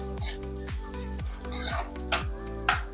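Almonds, cashews, walnuts and pistachios roasting in a pan for dry fruit laddu, with loud repeated scraping and stirring of the nuts against the metal, rattling in a steady rhythm over a low hum.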